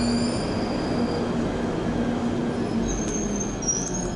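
A Eurostar train runs steadily on its rails with a constant rumbling roar, faint wheel squeals and high metallic whines appearing near the end.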